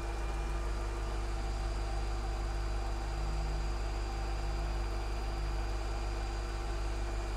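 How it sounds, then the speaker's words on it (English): A 1999 Mercedes-Benz C43 AMG engine idling steadily, with a smooth low hum and faint mechanical whir that holds constant with no talking. "Let's hear the engine itself. Quiet, smooth."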